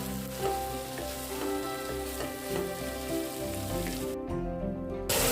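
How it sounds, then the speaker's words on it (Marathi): Potatoes for a spicy bhandara-style potato bhaji sauté in a pan, giving a steady close sizzle with soft scraping stirs; the frying cuts off abruptly near the end before resuming. "आता आपल्याला बटाटे छान परतवून घ्यायचे आहे"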